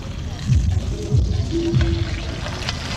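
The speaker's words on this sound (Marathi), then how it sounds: "बघा इथे सुरमई फ्राय चालू आहे" Surmai (kingfish) frying at a stall at the Mumbai Koli Seafood Festival, a steady dense sizzle under busy crowd noise and nearby talk.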